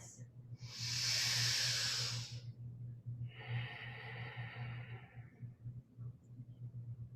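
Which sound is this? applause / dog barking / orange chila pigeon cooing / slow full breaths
slow full breaths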